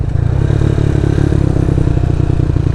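Loud, close motorcycle engine chugging steadily with a rattling, clattering tone as it climbs a steep zigzag mountain road near Sagada, continuous throughout without talk.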